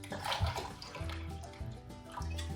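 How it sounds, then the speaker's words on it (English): Water poured from a container into a pot of butter beans, giving a close, gurgling splash with slight pulsing as the stream flows, fairly quiet overall. "So you add about 8 cups of water."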